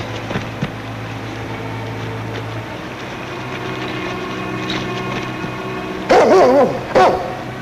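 A dog gives a couple of sharp, loud barks near the end after a stretch of low background hum.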